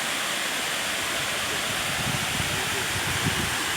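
Kuang Si waterfall in Luang Prabang, Laos, roars in a steady, dense wash of rushing water that fills the scene evenly from start to finish.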